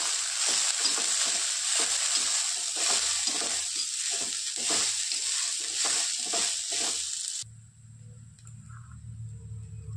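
Sprouted moth beans (matki) roasting in a spoonful of oil in a pan, giving a steady loud sizzle with clicks of stirring for most of the clip before it drops to a faint low hum near the end.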